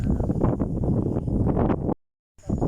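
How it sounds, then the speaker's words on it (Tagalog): Strong wind on Mt Gulugod Baboy in Mabini, Batangas buffets the microphone in a loud, continuous roar, cutting out briefly near the end before gusting back. "Sobrang lakas ng hangin, no?"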